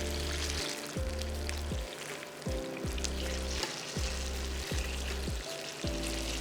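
Banana fritters in batter fry in hot oil, a steady close sizzle broken by a repeating series of low, sharp tonal sweeps that recur roughly every half second across the clip.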